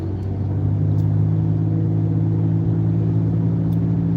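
Heavy road traffic rumbles as a dense, steady low drone of engines from within a car, rising slightly after the first half second and staying constant, with faint higher clicks now and then.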